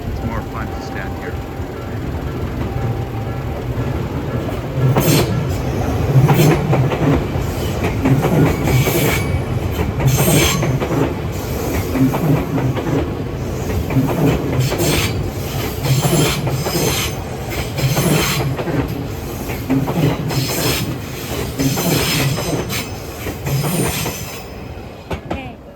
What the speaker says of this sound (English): Yeah, here comes the other train.